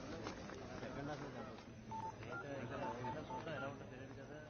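Telephone keypad tones beep in short bursts during a phone scene in a Telugu action thriller film, a few distinct dialing tones set under a bed of background score and ambient noise.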